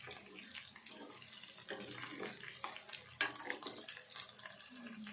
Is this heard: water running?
yes